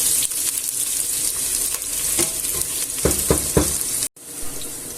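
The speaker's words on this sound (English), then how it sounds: "And gently soften it up, browning it off." Food browning in a pan for a meatball stew, a loud, steady close sizzle with a few soft stirring knocks toward the end before a brief cut.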